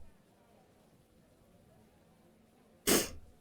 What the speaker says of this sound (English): Oh, I hate sneezing.